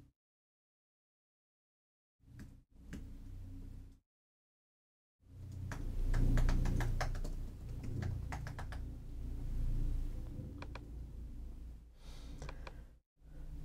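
Keys tapped on a computer keyboard while entering text into a software filter box: an irregular run of close, crisp clicks over a low background hum, with short bursts early on and a denser stretch later, separated by brief silences.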